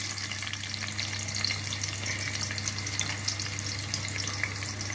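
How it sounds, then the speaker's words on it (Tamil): Chopped onions fry in hot oil while making mushroom biryani, a steady close crackling sizzle with small pops over a low constant hum. "வெங்காயத்தை போடலாம்."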